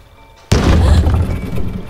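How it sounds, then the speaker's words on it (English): In the horror video game Grace in the Dark, a sudden heavy bang hits a door, one loud close thud after a quiet moment, then rumbling reverberation that slowly fades. "Yeah, there's the bang on the door."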